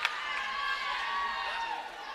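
An arena crowd at a women's college basketball game at the Convocation Center roars steadily from a distance, a broad, continuous cheer that stays fairly faint and even throughout.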